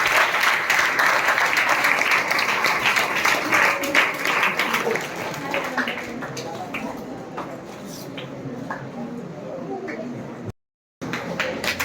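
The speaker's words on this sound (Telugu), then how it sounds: "అరే క్లాప్స్ కొట్టండి గట్టిగా." Audience applause at a ceremony honouring guests, steady dense clapping that carries over talk before gradually thinning out, then a brief silence.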